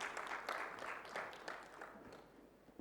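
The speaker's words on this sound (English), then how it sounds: "Can we have a big round of applause for Mr." Audience applause at a DevSecOps panel event, moderate and steady clapping from a room of people, fairly distant and even throughout, with no talking over it.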